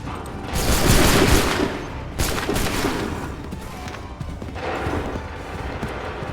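Musket volleys crackle in Assassin's Creed 3, dense bursts of rifle fire rolling across the battlefield in two or three heavy waves with rumbling noise between them.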